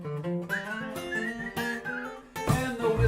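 A voice whistles a short, bright melodic phrase of sliding and held notes, close and clear, over a steady low musical backing, part of a live music performance.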